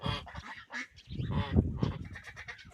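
Domestic white geese, a gander and a goose, honk and cackle in overlapping bursts close by on a farmyard, loud, busy calls filling the whole stretch with no talk.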